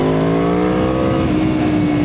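An Aprilia Tuono V4 1100 Factory motorcycle with the factory-fitted Aprilia exhaust, running a race map without the baffle, holds a loud steady rev with a rich harmonic growl close by.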